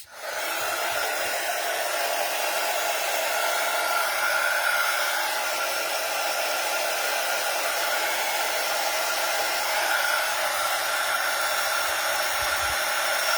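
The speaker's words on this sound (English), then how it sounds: "Grab our heat tool, heat it up." A crafting heat tool blows hot air in a continuous, loud, steady whoosh that starts abruptly and holds an even roar nearby throughout, with no talk.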